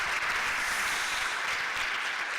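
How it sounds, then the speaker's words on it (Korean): Audience applause at an afternoon prayer meeting, a steady dense wash of clapping that holds at even loudness throughout with no voices over it. "다시 한 번 더 박수하겠습니다"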